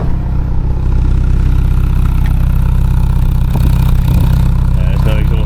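A Mazda MX-5 Miata engine with a new cat-back exhaust and decat runs steadily at close range, its low rumble rising briefly into a few revs toward the end, with faint clatter underneath.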